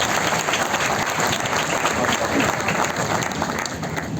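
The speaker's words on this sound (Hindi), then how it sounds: "आपकी जोरदार तालियां मैं सुनील शर्मा जी को बुला रहा हूं" A crowd applauds loudly at a motivational business gathering in Gurugram as Sunil Sharma is welcomed, with sustained, energetic clapping throughout and some faint voices mixed into the din.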